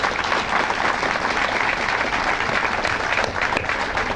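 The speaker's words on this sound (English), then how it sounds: "Could you all join me in giving him a big round of applause?" An audience gives a big, dense round of applause, steady and loud throughout without a break.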